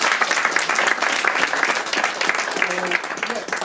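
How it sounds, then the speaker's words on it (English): An audience at a book launch breaks into sustained applause, dense and loud, steady clapping filling the room for a few seconds. "So give Claire a round of applause."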